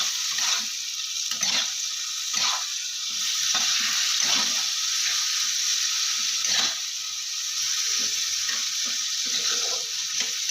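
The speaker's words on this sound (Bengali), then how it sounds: "আমি এই পর্যায়ে এসে অল্প একটু জল দিয়ে আবার একটু মশলাটা কষিয়ে নেব" Spices frying in a pan with a small splash of water added give a steady, close sizzle, broken by short scraping stirs throughout.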